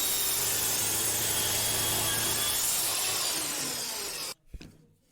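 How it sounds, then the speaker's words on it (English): A wooden jig is cut with a saw, a steady, close rasping that runs for about four seconds and then stops abruptly, followed by a small knock. "Now I shall cut this jig a little bit more than 10 inches."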